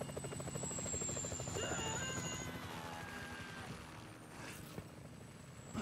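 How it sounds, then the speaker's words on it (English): Helicopter in the GTA V video game, a loud, steady rotor chop with a whining turbine tone, holding strong before easing slightly, with no speech over it. "Chopper! Incoming!"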